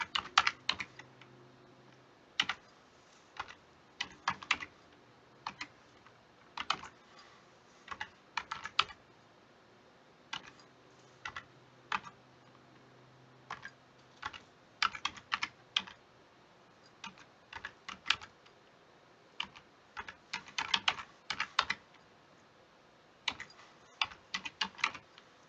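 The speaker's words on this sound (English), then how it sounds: "I chose to do the hard way here and type them all individually." Individual keystrokes clatter on a computer keyboard in uneven bursts and short pauses over about twenty-five seconds, close and clear against a quiet room, no talking.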